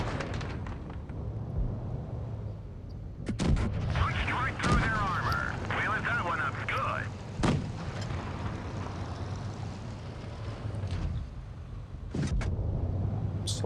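Tank gun shots in a war video game set on a canal map: several sharp, loud booms a few seconds apart cut through a steady engine rumble, with someone talking in between.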